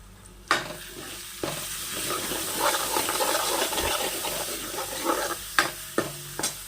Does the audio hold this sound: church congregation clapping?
no